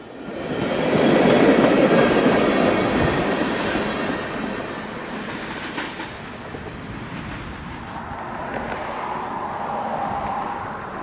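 An Indiana Harbor Belt freight train rumbles along the rails nearby at Gibson Junction, Indiana, a heavy sustained roar with faint squeals and clatter that slowly eases off.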